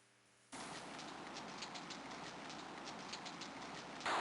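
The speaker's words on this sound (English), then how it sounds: "It starts to rain." After a moment of quiet, steady rain sets in abruptly in the video game King's Quest VI (1992), a dense even patter of drops that continues without pause.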